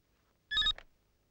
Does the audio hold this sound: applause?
no